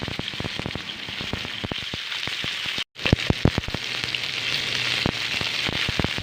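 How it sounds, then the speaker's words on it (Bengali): Fish coated with salt and turmeric frying in a little oil, a close, steady sizzle with dense crackling pops that cuts out briefly and resumes. "সামান্য লবণ ও হলুদ দিয়ে মাছ মেখে নিয়ে অল্প তেলে এপিট ওপিট করে বেশ ভালো করে ভেজে নিচ্ছি"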